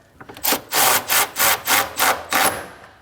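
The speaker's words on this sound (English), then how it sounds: "Now install the 10mm bolt that goes right here. Snug it up." A 10mm bolt is snugged down into plastic while a radiator is fitted on a 2011-2016 Kia Optima 2.4L, heard as six evenly spaced, close, loud ratcheting bursts.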